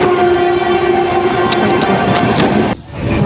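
A train arriving at a station: loud, steady rumbling with a sustained tonal horn-like drone, then a sudden drop as the noise cuts back near the end.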